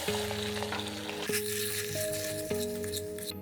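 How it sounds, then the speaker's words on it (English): Pasta tossed with browned garlic and olive oil in a pot sizzles steadily while being stirred, with soft wet squishes and a few light scrapes, close and continuous with no talking. "Add the pasta back in and stir really well."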